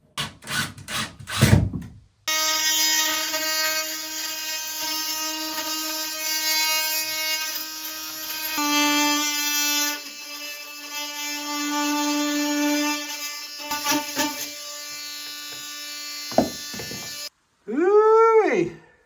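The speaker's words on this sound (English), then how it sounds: "that multi-tool is a beast. We just channeled it up" An oscillating multi-tool cuts a channel into wooden flooring in a log cabin, with a loud, steady high-pitched buzzing whine that rises and falls in tone, and a few brief knocks before and after.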